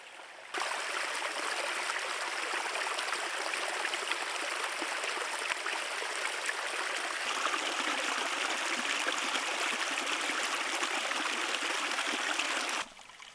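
A creek near Pratt Spring flows steadily at close range, a dense continuous rush and trickle of water running unbroken for about twelve seconds before cutting off, with no voices over it.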